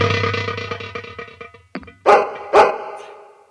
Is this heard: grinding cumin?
no